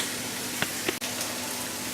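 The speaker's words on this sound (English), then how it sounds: "I have my bacon in the frying pan" Steady, soft hiss and crackle of bacon frying in a frying pan, with a few faint pops and a click, no voices.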